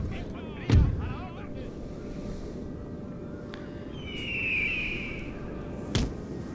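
Cannon fire in the Napoleon: Total War strategy game, heard as two sharp, loud booms about five seconds apart over a steady low battlefield rumble.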